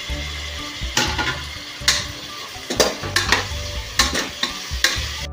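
Steady sizzling of tomatoes and onions frying in a pan, with repeated sharp scrapes and clanks of a spoon stirring against the metal.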